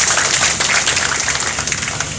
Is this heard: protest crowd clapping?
yes